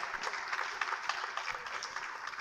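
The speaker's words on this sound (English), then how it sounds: "Can we just give her a resounding applause?" Applause at a memorial symposium on big data at the University of Lagos, a continuous crowd of clapping hands, fairly dense and even, with no talk over it.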